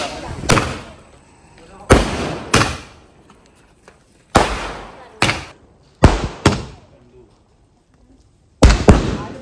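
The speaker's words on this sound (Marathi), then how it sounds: "त्याच्यानंतर ते फटाके वाजले जातात" Firecrackers burst loudly and close by, about nine sharp bangs coming singly and in pairs, each fading into a brief echo with quiet gaps between.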